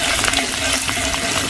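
Onion sizzles and fries in hot mustard oil tempered with whole cumin seeds, dried red chillies and green chillies, a steady, close crackling hiss with no voices.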